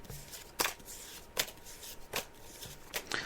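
Tarot cards laid out one at a time on a table, giving four or five soft, sharp slaps or snaps spaced roughly evenly, close-up and quiet with low background hiss and no talking.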